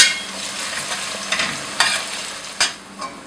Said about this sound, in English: we now add the onions and we fry them till they are light golden brown